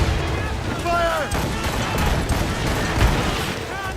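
Ship cannons firing in the Assassin's Creed Rogue video game, a dense rumble of booms and blasts rolling continuously beneath shouted voices and game sound.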